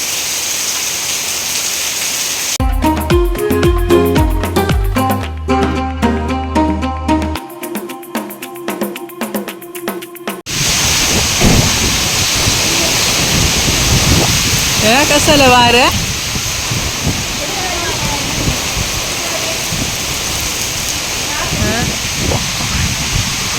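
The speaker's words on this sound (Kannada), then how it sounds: "ಈಗ ಇಷ್ಟು ಮಳೆ ಬರ್ತಿದೆ" Heavy monsoon rain in Udupi roars steadily; a stretch of music briefly takes over, then the downpour returns with faint voices in the background.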